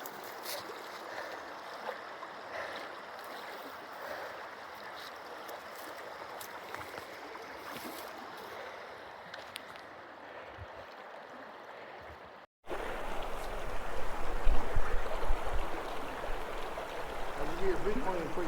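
Someone wades across the cold Paria River in Arizona, with water rushing and splashing around their legs throughout, growing louder and closer in the final seconds.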